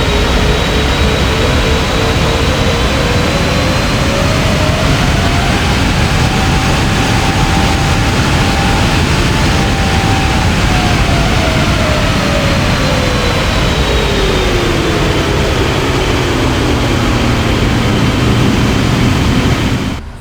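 A Boeing 777 engine heard from behind in the PMDG flight simulator game gives a steady, loud roar with a whining tone that slowly rises and falls, constant throughout and with no voices.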